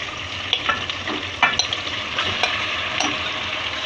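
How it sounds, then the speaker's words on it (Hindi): Marinated chicken, a kilo of it, tipped into hot oil with whole spices for a degh-style shahi chicken korma sizzles steadily, with scraping stirs and small pops close by and no talking. "ये जो हमारा ऑयल और ये खड़े मसाले जो हमने ऐड किए थे, ये इसको सारे जो मैरिनेट हुआ है चिकन, इसको सबको इसके अंदर ऐड कर देंगे"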